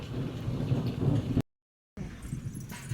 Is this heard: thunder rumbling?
yes